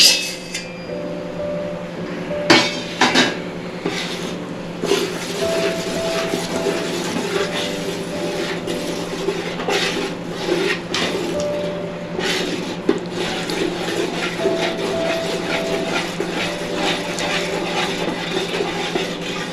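Urad flour roasts in a large quantity of hot ghee over low heat, with steady soft sizzling and repeated scraping and knocking of a stirring spoon against the pan, no voices.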